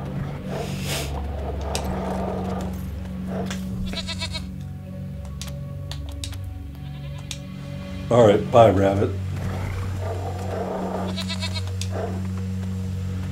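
Billy goat bleating in the video game Wasteland 3, one short wavering bleat in the middle amid game ambience and tones, with someone talking briefly.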